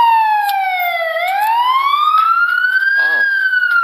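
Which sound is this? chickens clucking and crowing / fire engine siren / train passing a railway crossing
fire engine siren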